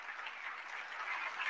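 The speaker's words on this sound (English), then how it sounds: "A huge round of applause for Ambassador Etienne" An audience at an embassy talk applauds with a brief, even wash of clapping that stays fairly faint and steady, swelling slightly toward the end.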